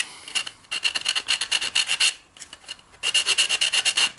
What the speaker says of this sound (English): You can kind of round off the sandpaper